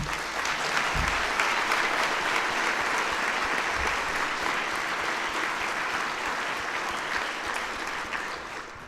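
A crowd claps steadily for several seconds at an awards evening, a dense, even round of applause that fades slightly toward the end.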